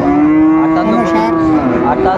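A bull calf at a Dinajpur cattle market lets out a loud, drawn-out moo lasting the whole moment, close by and clear over a busy market background.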